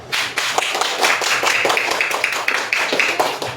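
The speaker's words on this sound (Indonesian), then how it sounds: "Tepuk tangan untuk teman-teman kalian." A class of elementary pupils claps together for their classmates during a maths lesson, a loud, close burst of overlapping hand claps that keeps a brisk, fairly even rhythm for the whole stretch.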